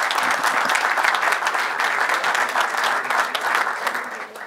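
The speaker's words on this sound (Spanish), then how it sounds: "Un aplauso." Applause from an audience at the close of a soil audit results presentation in Alcorta, a steady, full wash of clapping lasting the whole stretch and fading slightly at the end.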